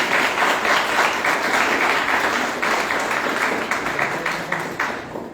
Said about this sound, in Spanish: Javier Geraldo Mercado Ortiz, para el cual vamos a darle un fuerte aplauso.